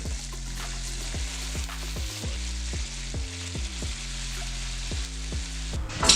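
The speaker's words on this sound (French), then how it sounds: "pour la deuxième friture, je chauffe l'huile à 190 degrés. Je mets les morceaux de poulet pendant 3 minutes." Chicken pieces deep-frying in oil heated to 190 degrees, a steady dense sizzle and bubbling with regular clicks and knocks, close and moderately quiet, no talk.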